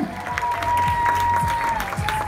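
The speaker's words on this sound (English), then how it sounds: "Give her a big round of applause" An audience claps for Rebecca's act at a Camber talent show, a steady patter of applause carrying on throughout with a faint tone running underneath.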